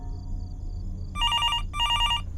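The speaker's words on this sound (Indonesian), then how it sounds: "Oke, ada telepon." An old-style telephone rings inside the horror game Fears to Fathom: Norwood Hitchhike, sounding two loud, trilling bell bursts after a quiet room hum, close and clear with no speech.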